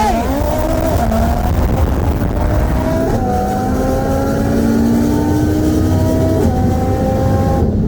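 A built 2018 Audi TT RS with an IMS850 turbo kit on E85 racing a 2021 Tesla Model S Plaid from a 40 mph roll, loud wind-swept engine roar climbing through several gear changes, close and sustained.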